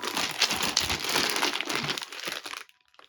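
Continuous crinkling of a plastic bag of Minecraft board game resource pieces being handled up close for a couple of seconds, then stopping abruptly into near silence.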